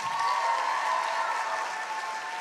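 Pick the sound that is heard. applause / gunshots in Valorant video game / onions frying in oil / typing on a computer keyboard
applause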